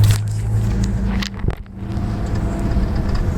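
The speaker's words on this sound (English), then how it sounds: "We're driving up." A car drives up on the way to a cliffside sky lodge in Peru, its low engine rumble and road noise steady and close throughout, with a brief dip partway through.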